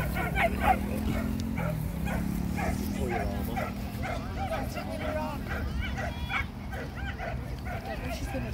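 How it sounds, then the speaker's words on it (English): A loose dog barks and yips outdoors in short, repeated bursts at close to mid distance, mixed in with people talking and steady background noise. "Got a loose dog."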